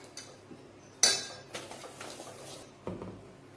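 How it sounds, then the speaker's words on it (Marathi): A lump of jaggery dropped into a cooking pot of tamarind-jaggery dal gives a sharp clunk followed by a few light metallic clinks and knocks, close and fairly quiet, with no talking. "हे आपण गुळाचा खडा पण टाकून घेऊ त्याच्यामध्ये"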